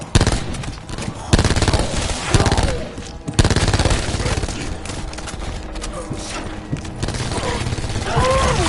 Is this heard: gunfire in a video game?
yes